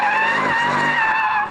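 A Jaguar car drifts with a loud, close tire skid, a sustained high-pitched squeal that holds steady for over a second before trailing off at the end.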